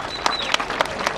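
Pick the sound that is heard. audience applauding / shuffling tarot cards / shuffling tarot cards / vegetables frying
audience applauding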